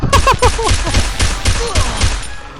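Rapid gunfire from a shooting video game, a quick string of sharp, loud shots at an uneven pace, some overlapping, with short tonal game effects between bursts.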